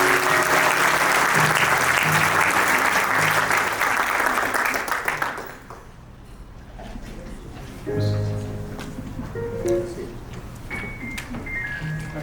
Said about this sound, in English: let's all give Coach Mack a big hand of applause.